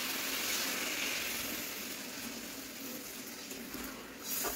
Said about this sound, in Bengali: আমি গরম জলটা দিয়ে দিচ্ছি